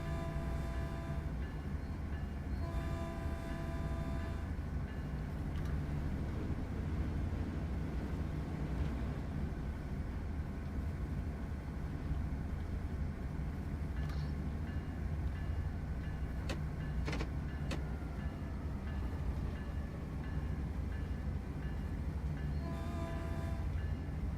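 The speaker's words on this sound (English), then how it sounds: "Here's another train." A Caltrain train in Train Sim World 2 rumbles past continuously with a steady low roar, a couple of faint horn-like tones sounding over the noise.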